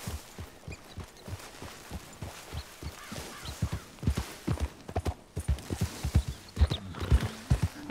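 Horse hooves clip-clop in Red Dead Redemption 2, a steady walking rhythm that starts soft and grows slightly closer and louder, with no talk.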